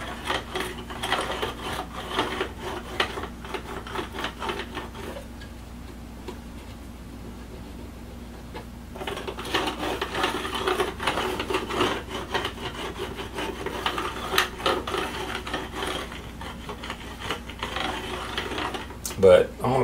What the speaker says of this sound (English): we just kind of burnished this down a little bit more